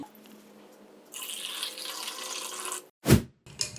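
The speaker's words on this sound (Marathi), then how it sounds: "आता घालूयात ह्याच्यामध्ये आपण पाणी" Water pours steadily into a glass of mint syrup for a couple of seconds, followed by a brief louder splash or clink and a short trickle at the end.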